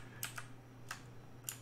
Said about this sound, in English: What I'm doing is hitting Command C on my keyboard, Control C on my keyboard